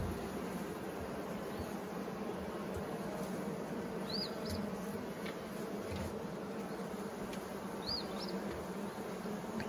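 Honey bees buzz steadily around an open long hive during an inspection, a dense, continuous drone close by with a couple of faint chirps over it.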